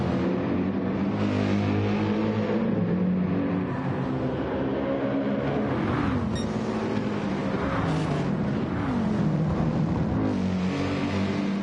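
A Lexus Gr-3 race car engine in a racing game, a steady loud drone with rising and falling pitch as the car accelerates and shifts, other cars' engines blending in, with no talking.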